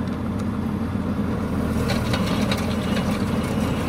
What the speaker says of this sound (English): Let's turn the PTO on with that switch.